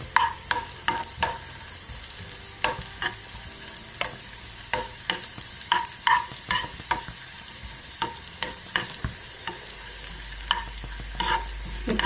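Cashews and raisins frying in ghee in a small pan, with repeated sharp spoon clicks and stirring over a soft sizzle, close and without speech.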